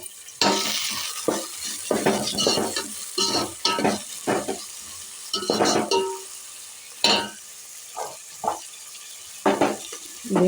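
Chopped onions and green chilies frying in a pan, with repeated bursts of spoon scraping and stirring over a steady sizzle, fairly close and loud, no talk.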